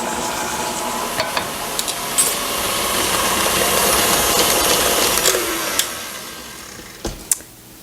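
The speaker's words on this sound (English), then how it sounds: "I'm going to put my sugar in with my butter, and I'm going to beat that until it's creamy" A mixer beats sugar and butter together for cookies, a steady whirring hum running throughout with occasional clicks and knocks near the end, no voices.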